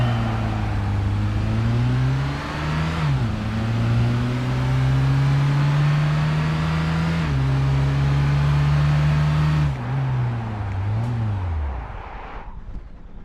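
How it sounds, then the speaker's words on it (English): A race car engine in the Gran Turismo 5 video game revs with a loud, steady droning tone that dips and climbs several times in pitch before trailing off at the end. "Right, so he revved it up."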